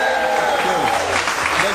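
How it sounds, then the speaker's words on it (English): A studio audience at a talk show claps in a short burst of applause, with a voice speaking over the clapping. "Give him a round of applause."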